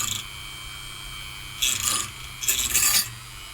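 A small burnt resistor's coating is scraped away in two short, close rasping bursts separated by pauses, over faint steady background hum and no talk.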